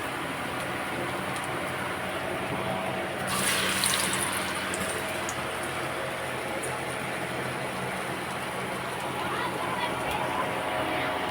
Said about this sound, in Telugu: ఇప్పుడు వడలు నూనెలా